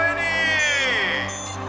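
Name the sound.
cartoon race cars revving as the race starts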